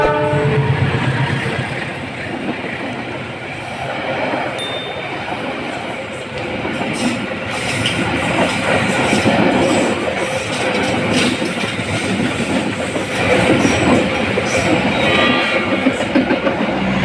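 A CC206 diesel locomotive hauling cement wagons rolls past close by with a steady, loud rumble and rail noise throughout, while a person speaks briefly.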